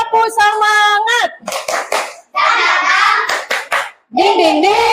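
A class of children performs a spirited rhythmic clap in a classroom, bursts of hand claps mixed with loud chanting children's voices, stopping and starting in short phrases.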